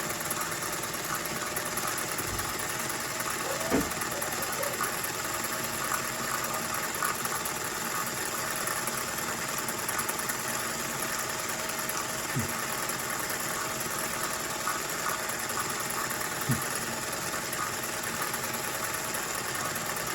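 A domestic sewing machine runs steadily while sewing a wide, short stitch, giving a continuous mechanical whir with faint intermittent clicks, close and alone.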